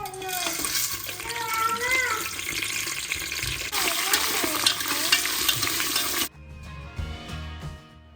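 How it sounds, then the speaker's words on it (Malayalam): Whole spices sizzling in hot coconut oil inside a pressure cooker on the stove, a steady loud crackling fry that runs throughout and eases off slightly near the end, with faint tonal sounds in the background. "കുക്കർ സ്റ്റൗവിൽ വെച്ച് ചൂടായതിനു ശേഷം വെളിച്ചെണ്ണ ഒഴിച്ചു കൊടുക്കുക എന്നിട്ട് നമ്മൾ എടുത്തു വെച്ചിട്ടുള്ള സ്പൈസസ് എല്ലാം കൂടി ഒരുമിച്ച് ഇട്ട് കൊടുക്കുക"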